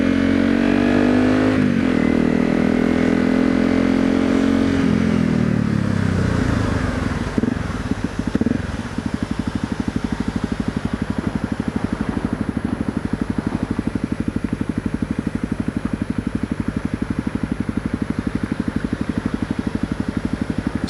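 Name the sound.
motorcycle with aftermarket exhaust revving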